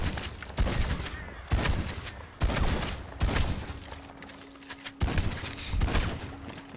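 Shotgun fire in the video game Red Dead Redemption 2 Online: five heavy, loud blasts land at uneven intervals, each followed by a short rumbling tail, with no talking.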